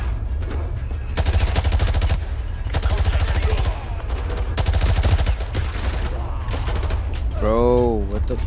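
Rapid bursts of automatic gunfire from Call of Duty Modern Warfare 2 Remastered pound in loud, sustained volleys, close and dense, with a brief gap midway and game sounds near the end.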